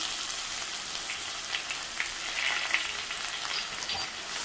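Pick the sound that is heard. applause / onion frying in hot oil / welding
onion frying in hot oil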